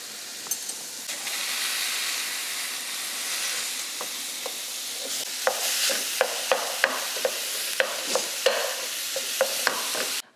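Two pounds of ground meat, still partly frozen, sizzling and hissing steadily in a pan, with a run of sharp scraping stirring clicks in the second half, close and clear with no talking.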